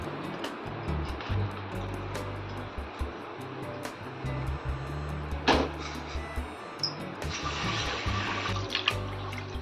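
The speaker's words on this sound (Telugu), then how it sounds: "ఒక కప్ కందిపప్పు తీసుకొని దీన్ని 2 times వాష్ చేయాలి" Toor dal lentils being washed in water, continuous splashing and sloshing with swirling water sounds and a brief louder pour midway, fairly close.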